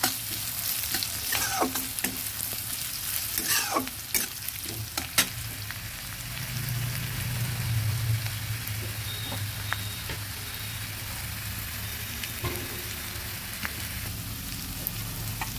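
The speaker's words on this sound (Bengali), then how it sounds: "পেঁয়াজটা ভালো করে ভেজে নিচ্ছি।" Onion frying in a pan for a koi fish and potato curry: a loud, continuous sizzle with frequent sharp stirring scrapes and taps of a spatula against the pan.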